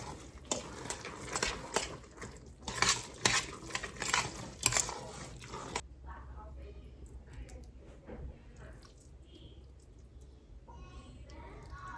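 Rice filling for stuffed peppers is stirred in a dish, with a run of scraping and clinking utensil strokes that gives way to quieter handling as a voice talks.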